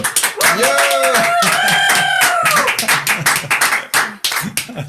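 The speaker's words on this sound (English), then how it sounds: "But here our team would like to clap for you." A music team on a frame drum channel claps together for a departing colleague, sharp overlapping hand claps with drawn-out whooping vocal calls rising and falling above them, fairly loud and close.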